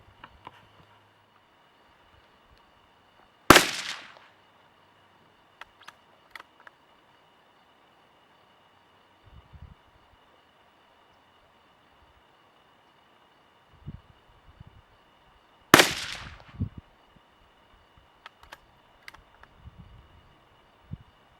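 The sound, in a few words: 17 HMR rifle shots, Hornady 17 grain VMAX, stock-mounted bipod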